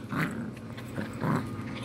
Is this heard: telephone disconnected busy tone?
no